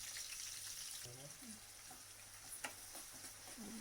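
Green chillies and onion paste frying in hot oil, a steady broadband sizzle with occasional stirring clinks and a sharper crackle near the end, close to the microphone.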